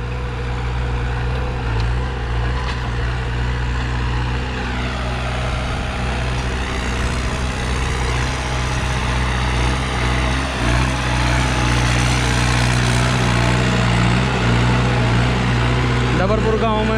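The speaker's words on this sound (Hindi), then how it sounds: "चौथा चक्कर स्टार्ट हो गया ट्रैक्टर का" A New Holland 5630 4WD tractor engine runs steadily nearby, a loud continuous low drone that holds throughout, with talk over it.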